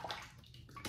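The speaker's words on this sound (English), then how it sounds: "don't put your foot in my sink water" A child splashing a foot in water filling a bathroom sink, with brief close sloshing and watery gurgles over about a second, no speech.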